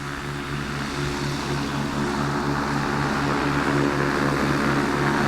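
Powered parachute fitted with a car engine flying at an airport fly-in, a steady droning engine and propeller hum held at constant loudness throughout, fairly near, with no voices.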